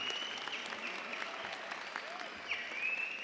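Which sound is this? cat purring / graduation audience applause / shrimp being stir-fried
graduation audience applause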